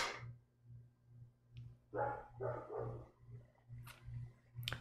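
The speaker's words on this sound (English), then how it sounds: "Dogs have some excitement." Several dogs bark excitedly indoors in short bursts, a few sharp yips and a cluster of barks in the middle, faint and somewhat distant over a low pulsing hum.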